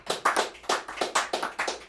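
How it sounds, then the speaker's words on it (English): A short burst of audience hand clapping at a comedy show, roughly nine or ten distinct claps in an uneven rhythm, close and fairly loud, with no voices. "Give yourselves a round of applause for making it."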